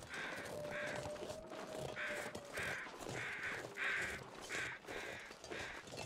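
A crow caws repeatedly in a foggy wilderness video game, about ten evenly spaced harsh calls at moderate distance over a faint ambient hum.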